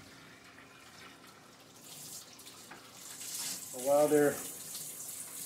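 Tap water runs over freshly chopped vegetables in a home kitchen sink while making vegetable soup, a steady moderate splash that swells briefly louder near the end, with a voice speaking over it.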